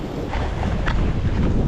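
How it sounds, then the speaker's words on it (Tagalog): Strong wind buffeting the microphone at a rough seashore with heavy waves, a constant loud roaring rush with gusty swells and no speech. "Grabe kalakas ng alon, lakas ng hangin."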